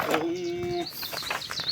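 A caged zebra dove (perkutut) gives a short, steady tonal coo up close, followed by faint chirps and rustling.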